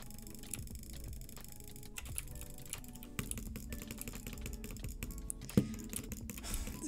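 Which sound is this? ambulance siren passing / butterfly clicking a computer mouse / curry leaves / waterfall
butterfly clicking a computer mouse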